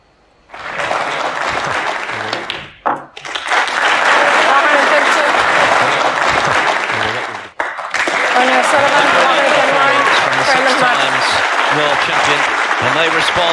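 Loud, sustained crowd applause fills a snooker arena at the 2022 European Masters quarter-final as Ronnie O'Sullivan makes a century break against Tom Ford, with two brief dips before the clapping swells again.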